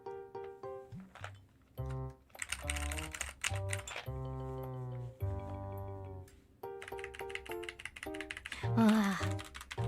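Typing on a pastel mechanical keyboard with stiff keys that need a firm press, close and clear, in irregular clusters of clacky keystrokes with brief pauses between bursts.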